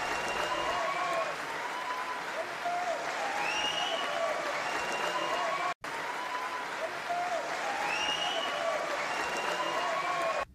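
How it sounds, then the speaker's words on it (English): Party members in parliament break into a sustained round of applause, dense and continuous clapping from a large crowd with voices mixed in, holding steady apart from a brief cut midway. "It's then followed by a round of applause by fellow party members."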